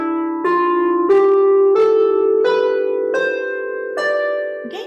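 A single melodic instrument plays a Dorian mode scale starting on D, six clear ascending notes evenly paced and sustained, close and clean with no voices.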